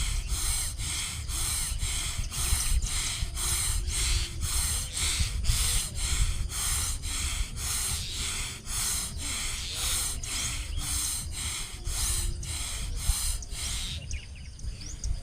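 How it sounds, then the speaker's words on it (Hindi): Forceful loud panting in a pranayama breathing exercise, quick rhythmic bursts of breath repeating evenly about once a second for the whole stretch, close and strong with no talk. "वो आप लोग इस प्रकार से जोर जोर से हाँफना है।"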